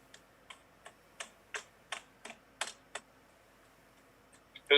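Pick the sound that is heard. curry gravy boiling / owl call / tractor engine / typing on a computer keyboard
typing on a computer keyboard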